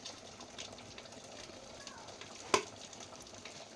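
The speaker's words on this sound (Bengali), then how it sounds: "তাই জন্যে মাছের মাথাটাকে আমি ভেজে নিচ্ছি" A fish head frying in oil for a Bengali muri ghonto gives a faint, steady sizzle close by, with one sharp clink partway through and a quiet voice in the background.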